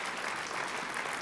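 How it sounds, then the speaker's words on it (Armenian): An audience gives brief, dense applause at a national dance gala concert, a short, steady burst of many hands clapping. "Եկեք բարձր ծափահարենք Արային"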